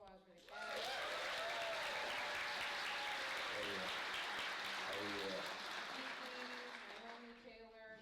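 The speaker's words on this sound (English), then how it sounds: "Let's give a round of applause for the cast." A theater audience applauds the film's cast at a Q&A screening, loud dense clapping that swells up quickly and holds steady before slowly tapering, with some voices and cheers mixed in.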